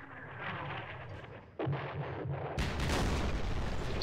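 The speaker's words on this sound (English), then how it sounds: "The Egyptian artillery is coming in here." Artillery fire in a Middle East war strategy video game, with Egyptian artillery shelling: a low rumbling barrage, then a sharp blast and a louder, heavier burst of shelling that carries on to the end.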